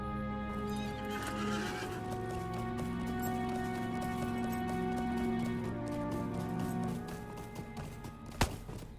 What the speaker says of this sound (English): I guess we can get on a horse for this.